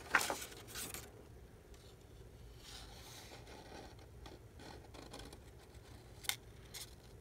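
Paper being cut from an old book with scissors, a few faint snips and rustles at the start and near the end, quiet and close with long low background between.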